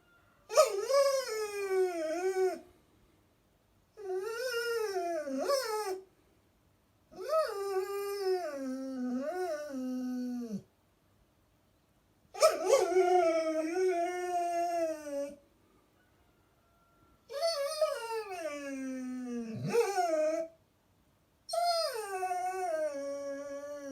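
A dog howls in long rising and falling wails, about seven separate howls with short silent gaps between them, close and clear with no other sound.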